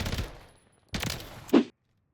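JAK Revenger gun fired at dummies on a video game firing range: two short bursts of rapid automatic shots separated by a brief pause, loud and close.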